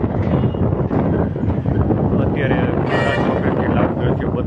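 Strong, dusty wind in Halvad town ahead of unseasonal rain, buffeting the microphone in a steady, loud roar for the whole clip, with a brief whistling gust partway through.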